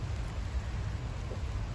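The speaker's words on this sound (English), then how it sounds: "now it's starting to rain" Steady rain falls over a garden, a dense, continuous wash of drops with low rumbling underneath, fairly close and unbroken throughout, no voices.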